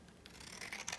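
Scissors snip through paper at a bevel for a pop-up card, a faint, brief rasping cut close by with a few soft scratchy strokes.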